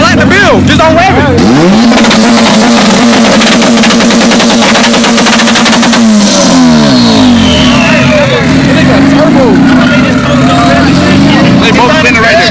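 A car engine revving hard at a car meet, loud and close, with rising and falling sweeps and a sharp pitch drop midway, while people talk and shout over it.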